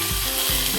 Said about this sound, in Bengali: আমি সবজিটাকে একটুখানি নেড়ে নিচ্ছি আর কি